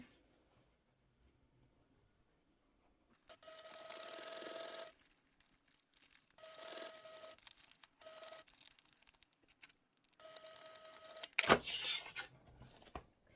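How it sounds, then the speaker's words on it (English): Sewing machine stitching closed the opening of a handmade fabric wristlet, three short whirring runs of the motor separated by pauses, close and moderately loud, ending with a sharp rustle or clunk. "So we're just going to sew that little opening up."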